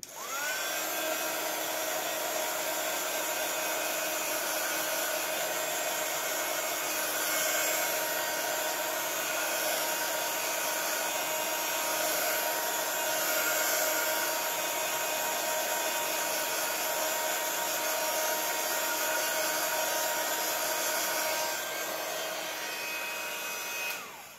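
A hair dryer blows continuously to dry a handmade oval card, a loud, steady whooshing whir held for about twenty seconds before it cuts off, with no talk.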